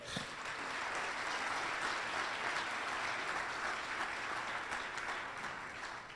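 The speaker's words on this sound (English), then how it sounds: "Big round of applause" An audience at a cancer charity gala applauds a winner, a steady wash of many hands clapping, continuous and even for six seconds, heard from a moderate distance with no speech over it.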